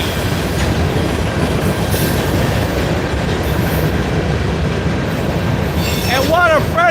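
A Norfolk Southern freight train, train NS370, rumbles past close by in a steady, loud roar of wheels on rails, with a high metallic squeal rising near the end.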